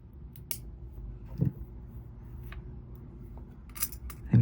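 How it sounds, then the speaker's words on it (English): Scissors snip a small fibrous bit of thread off a handmade floral friendship bracelet, making a few quiet, brief clicks and cuts over soft handling noise. "You can just snip it off."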